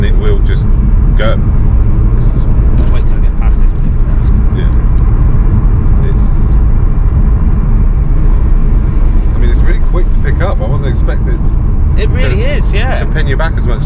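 A MK4 Toyota Supra accelerates hard with the gearbox kicking down, a loud continuous engine and road rumble heard from inside the car while people talk over it throughout.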